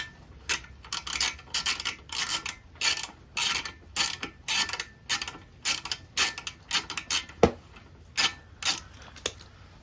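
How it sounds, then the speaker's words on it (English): A hand wrench ratchets in quick, uneven bursts of close, crisp clicks while loosening an exhaust bolt on a Honda Grom motorcycle, with short pauses between strokes. "grab your wrench. And shouldn't be hard, just pop it loose."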